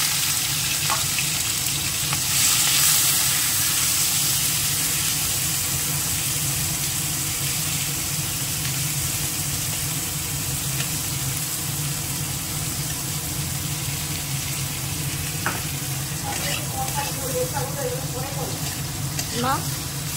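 Prawns frying in hot oil with dried chilli and cumin, a steady close sizzle running throughout with a few faint clinks of utensils near the end.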